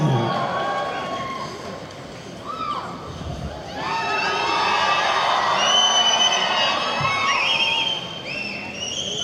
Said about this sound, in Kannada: ಬರಲಿ ರವಿಶಂಕರ್ ಅವ್ರಿಗೂ ಜೋರದ ಚಪ್ಪಾಳೆ